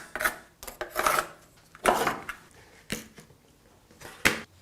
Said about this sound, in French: Donc je vais découper la partie débordante